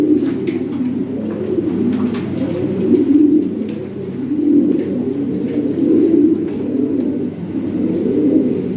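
Lahori pigeons coo in a steady chorus of low, rolling calls that rise and fall in waves, close and continuous, with a few faint higher chirps scattered through and no voices.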